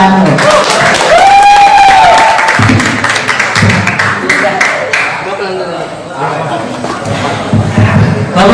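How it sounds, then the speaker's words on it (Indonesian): An audience at an Islamic boarding school Quran event claps in a dense burst under loud amplified talk and ringing tones, the applause thinning as speech continues. "Tepuk tangan yang meriah."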